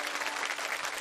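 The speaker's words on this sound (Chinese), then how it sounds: "我们再次响起热烈的掌声" An audience claps together in a short burst of dense, steady applause.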